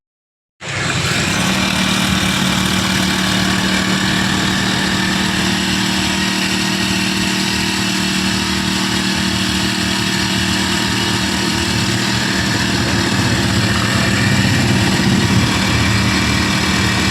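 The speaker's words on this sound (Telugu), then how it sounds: "ఈ ఇంజిన్ 4 స్ట్రోక్ ఇంజిన్ తో కలిగి ఉంటుంది." A KisanKraft power sprayer with a tank starts and runs on its 4-stroke engine. It drones loudly and steadily at close range, without speech.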